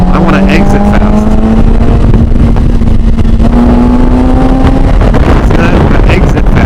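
A motorcycle accelerating out of a slow corner at full throttle on a canyon road, its engine note climbing steadily while loud wind noise roars across the microphone.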